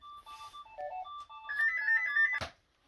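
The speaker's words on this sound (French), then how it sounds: "C'était mon téléphone fixe et comme d'habitude, c'était encore de la publicité." A landline telephone at home rings with a bright electronic melody of repeated tones, fairly close and clear, for about two and a half seconds before cutting off abruptly with a short knock.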